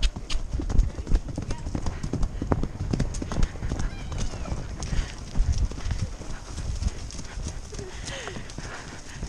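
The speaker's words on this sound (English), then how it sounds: "It's hard to hold back my horse." Horse hooves clip-clopping in a steady rapid rhythm as a horse is ridden fast on a hill, close and continuous, with riders talking over the hoofbeats.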